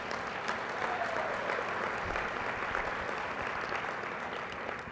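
An audience at a general session of the Kuali Days 2012 conference claps together in sustained applause, a dense, even crackle of many hands heard from within the room, fairly faint and steady without cheering.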